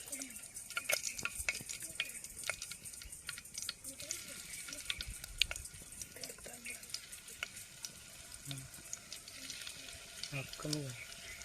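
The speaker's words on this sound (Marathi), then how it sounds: "आपण आता चिकनचे पीस त्या बॅटरमध्ये टाकलेले आहेत पूर्ण. तर एक एक पीस आपण सोडूया तेलात." Battered chicken pieces fry in oil at an outdoor riverside jungle cookout, a soft steady sizzle with scattered clinks and stirring knocks under faint ambient noise.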